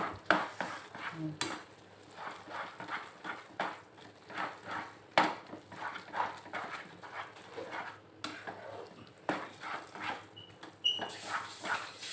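Misoa noodles stirred in a pan, with repeated soft scraping strokes and light clinks of a utensil in an irregular rhythm, faint and close.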